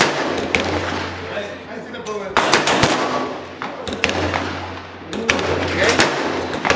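Several sharp, loud gunshot cracks fired at close range, spaced a second or so apart among lighter popping transients, with outdoor background noise between shots.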